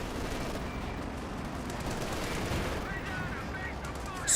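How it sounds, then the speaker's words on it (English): A smoke mortar firing in the World War II strategy game Company of Heroes 2, with muffled gunfire and thumping battle noise rolling continuously at low level under a faint voice. "Smoke mortar firing away"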